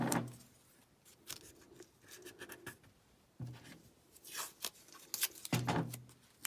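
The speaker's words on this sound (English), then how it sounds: "So what I'm going to do though is I'm going to tape this down." Tape pulled from a roll and pressed down to hold paper for block printing, several quick ripping strips and rubbing scratches, close and fairly quiet, with no talk.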